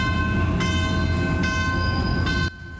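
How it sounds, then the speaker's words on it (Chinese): A new Taiwan Railways R200 diesel-electric locomotive, white cab and dark blue body hauling freight containers, arrives at Hualien station on its first run. It blows a loud, steady multi-tone horn over rumbling engine noise, then cuts off abruptly. "因为火车要入站啊"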